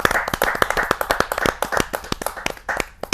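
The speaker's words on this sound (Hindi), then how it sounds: "जरा जोरदार ताली के साथ हम उनका स्वागत करें" Audience applause welcoming a poet at a Hindi poetry gathering (kavi sammelan), a run of sharp, distinct hand claps in an uneven rhythm, fairly close and moderately loud.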